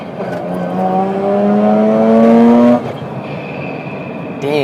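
A Mazda RX-8's rotary engine revs up hard under acceleration, its rising whine climbing steadily before a brief drop at a gear change and a fresh climb at the end.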